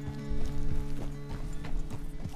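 Horse hooves clip-clop in Red Dead Redemption 2, with a steady walking rhythm of distinct, fairly close hoof strikes over a low, sustained hum.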